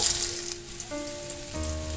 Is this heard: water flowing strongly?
no